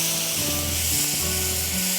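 Onions sizzle steadily in a hot pan, a dense, loud, continuous hiss and crackle, close up, with a faint hum underneath and no voices.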